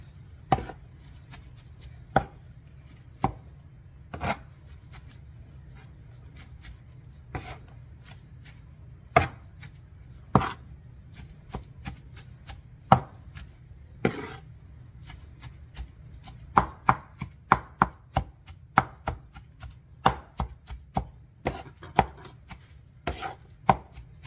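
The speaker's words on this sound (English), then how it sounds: "now I'm going to give it a rough chop again and kind of get all this combined together" A knife roughly chops Italian sandwich fillings mixed with mayonnaise on a cutting board, sharp distinct thuds spaced irregularly at first, then quickening into a rapid flurry of chops near the end, close and clear over a quiet background.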